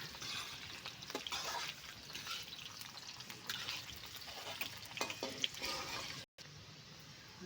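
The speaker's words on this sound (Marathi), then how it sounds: "थोडंसं हलवून घेऊया आपण ते सारखं हलवून घ्यायचं" Garlic cloves and ginger fry in a pan over a wood-fired stove for pasta, a faint, steady sizzle with light stirring scrapes and a brief dropout near the end.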